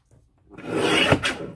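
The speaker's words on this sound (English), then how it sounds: "let's place this in the trimmer and cut it" A paper trimmer slicing through a sheet of dot-print paper makes one close, continuous rasping cut of about a second, with a brief sharper scrape near its end and no talking.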